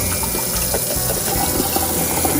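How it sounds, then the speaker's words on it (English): Extremely hot water is poured into a cup, a steady close rushing and splashing stream that runs without a break for the whole moment. "We have extremely hot water here, extremely hot water."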